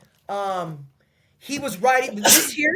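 A single sharp sneeze bursts out nearby, followed by a brief pause and then a person speaking.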